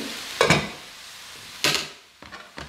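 Cooked shrimp and udon noodles stirred in a hot pan, a few short bursts of sizzling and scraping separated by quieter gaps.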